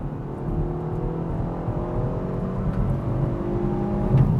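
A 2021 Kia Forte 5 GT with a manual gearbox and a 200-horsepower engine, accelerating hard at full throttle in third gear from about 3,500 RPM. A steady engine drone builds slowly from inside the cabin, with no one speaking.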